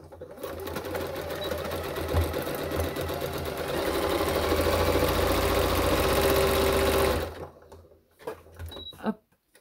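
A sewing machine runs steadily for about seven seconds, stitching seam over seam on a running backpack, then stops; a few soft handling knocks follow, all close by.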